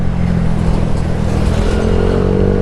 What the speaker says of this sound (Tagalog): Oh, ang daming motor.